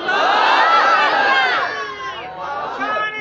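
A large crowd at a Sindhi religious gathering answers the Takbir chant, many voices roaring together in a loud, sustained shout that swells, dips briefly, then rises again.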